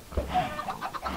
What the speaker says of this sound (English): Another couple of chickens,